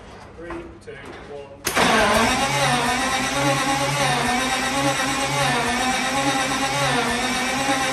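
A Centurion AVRE tank engine fires for its first start after a quiet moment of cranking, bursting into a loud, steady, rough roar that holds to the end.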